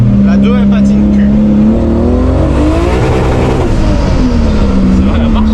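Volvo with a rally chassis and roughly 1000 hp, engine droning loud and steady from inside while accelerating in second gear on a cold road with wheelspin, the pitch climbing and sagging through a long continuous pull.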